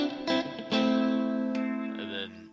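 An electric guitar with everything turned to ten and the middle pickup selected plays sustained chords through effects, giving a bright, shimmering tone with reverb and light distortion; it rings loud, then softens and ends in a lower note.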